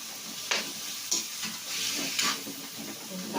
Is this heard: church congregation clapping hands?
no